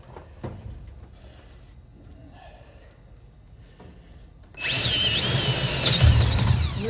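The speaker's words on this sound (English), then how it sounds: "we got that last hole drilled" A power drill is switched on and bores steadily and loudly into a locomotive inertial filter on an EMD SD45-2 during servicing, after a few seconds of quiet workshop clanks.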